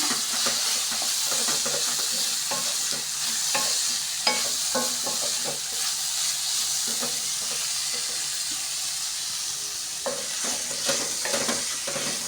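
Grated coconut and onion sautéed in a pan, a loud steady sizzle with frequent scraping and clattering stirs throughout, close up and without talk.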